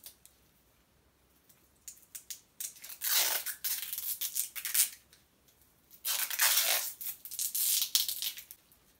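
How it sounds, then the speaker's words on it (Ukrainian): Adhesive tape is pulled and torn while binding a flower bouquet, two raspy ripping bursts a few seconds apart with small crackles between, close and fairly quiet, without talking. "Робимо це за допомогою скотчу."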